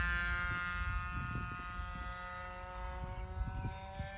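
A Simitar Tracer light aircraft flies at slow speed overhead, its engine drone steady and continuous with a rich set of harmonics, faint knocks and thumps underneath.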